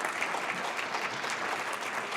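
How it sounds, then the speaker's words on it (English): Audience applause for Tom at the end of a community evening talk, a dense, even wash of many hands clapping that holds steady throughout. "let's give another round of applause for Tom"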